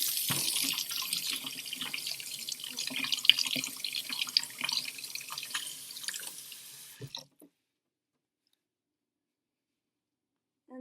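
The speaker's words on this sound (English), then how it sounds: "Next, you wash the potato." Tap water splashes steadily into a sink as a potato is washed under the faucet, a continuous hiss with small drips and splatters for about seven seconds before the flow stops abruptly, leaving near silence.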